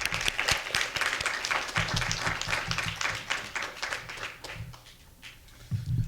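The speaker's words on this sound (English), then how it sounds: "Round of applause for Roy." An audience at an arts event on solitary confinement claps for a speaker coming up, brisk, close applause with distinct individual claps that dwindles toward the end, a brief voice rising at the close.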